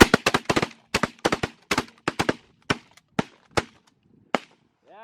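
Shotgun blasts during a bird hunt ring out in a rapid volley of sharp, loud reports, clustered fast at first and then spacing out into slower single shots, with a brief call at the end.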